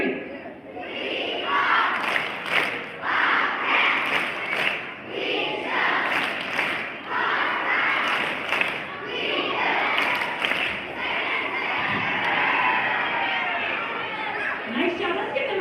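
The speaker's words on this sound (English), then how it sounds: "on the count of 3, you're going to start our Bobcat chant" Second grade students at a school assembly shouting their Bobcat chant together, loud rhythmic group voices with sharp stomps or claps marking the beat, continuing in bursts throughout.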